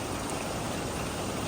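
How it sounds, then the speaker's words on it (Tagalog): Heavy rain pours down without pause during a black rainstorm, a dense, loud, continuous hiss of water that never lets up, with no voices. "Halin pa kagabi nga inulan, non-stop ulan."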